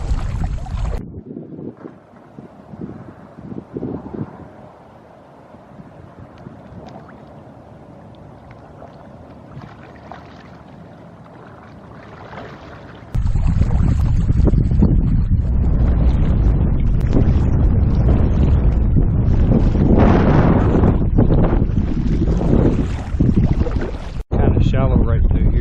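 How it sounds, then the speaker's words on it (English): Wind while paddling on a creek, first faint with soft water sounds, then a sudden loud, continuous buffeting roar against the microphone for the rest of the time, with no speech. "right now, we're fighting the wind"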